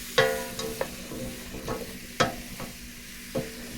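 A spoon stirring tiny red skin potatoes in a pot, with a soft steady sizzle and several distinct scraping knocks spaced irregularly, close and fairly quiet.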